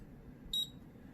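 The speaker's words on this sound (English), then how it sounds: "slide that over, wait for it to beep, move down, wait for it to beep, and move across." A Colop e-mark create handheld printer gives one short, clear high-pitched beep, brief and isolated in an otherwise quiet room.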